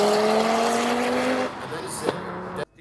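1995 Audi race car running an RS2 engine at the Simola hillclimb, its engine note climbing in pitch before backing off and fading, with a voice talking over it.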